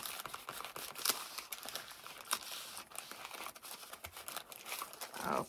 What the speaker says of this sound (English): Lay down my parchment paper.